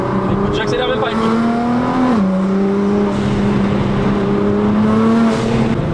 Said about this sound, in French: la sonorité de chez Nissan, je sais pas comment ils ont fait pour faire un V6 qui faisait autant de bruit